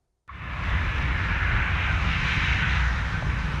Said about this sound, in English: The first flight in 2 years landed at Doncaster Sheffield Airport today.